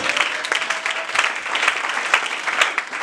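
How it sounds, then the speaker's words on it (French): A church congregation claps for the Lord in a sustained burst of applause, many hands pattering together at steady loudness, with a faint voice or two beneath. "Est-ce qu'on peut acclamer pour le Seigneur?"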